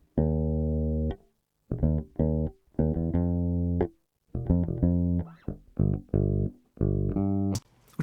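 Bass guitar recorded straight through a direct input with no amp, a run of plucked notes and short phrases with brief pauses, clean and close, with no talking.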